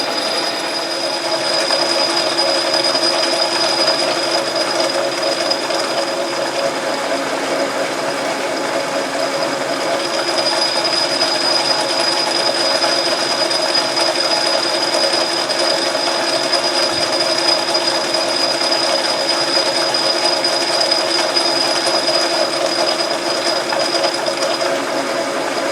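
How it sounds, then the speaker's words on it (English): A metal lathe turning and cutting steel during thread work, a continuous loud mechanical whir and hum with a steady high whine, unbroken for the whole stretch. "I'm getting deeper where I'm cutting more steel as I go"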